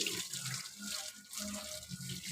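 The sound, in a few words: running water while bathing a dog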